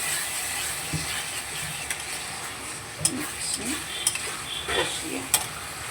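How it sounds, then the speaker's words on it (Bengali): Chicken masala sizzles steadily in a pan while a spoon scrapes and stirs with scattered clicks and knocks, and a splash of water adds to the frying hiss; a voice talks faintly in places. "তো আবারও একটু ভালো করে নেড়ে নেব দিয়ে দিচ্ছি সামান্য একটু জল যাতে মশলাটা না লেগে যায়"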